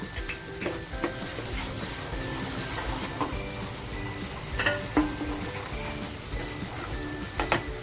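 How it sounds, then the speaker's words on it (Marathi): Masala paste for a Maharashtrian pomfret curry roasts in a pan with a constant loud sizzle, while a spoon scrapes and taps against the pan in irregular clinks. "मसाला छान आपल्याला भाजून घ्यायचा आहे अगदी खमंग"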